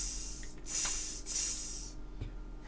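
Isopropyl alcohol is sprayed onto a hot amplifier power supply in two close, sharp hissing bursts from a spray bottle, followed by a faint click.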